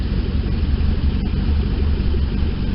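A tuned car engine idles steadily with a low, even rumble, close and continuous throughout with no talking.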